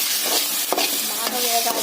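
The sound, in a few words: onions, ginger and garlic frying and being stirred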